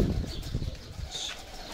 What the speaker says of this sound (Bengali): সবগুলা কবুতর এই পাশে।